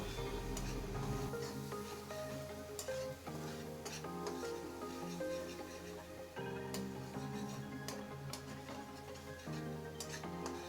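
Spice paste and ginger paste stirred and fried in a pan for a vegetarian doi potol curry, a steady close sizzle with scattered scraping and ticking of the spoon throughout.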